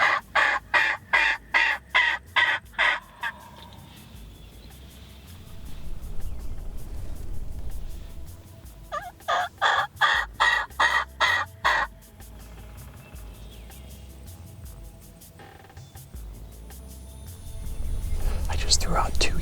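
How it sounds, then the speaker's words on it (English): Wild turkey sounds during a spring bow hunt in the Indiana woods: two bursts of rapid, evenly spaced yelp-like calls, separated by quieter stretches with low rustling and faint whispering nearby. "Just threw out 2 yelps. He gobbled back to the first one."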